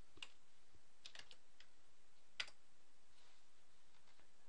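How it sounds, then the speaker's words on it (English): Arrow keys on a computer keyboard are pressed a few times in quiet, separate clicks while moving through an Excel 2010 spreadsheet, with one sharper tap near the end. "Using my arrow keys, I can move to the right."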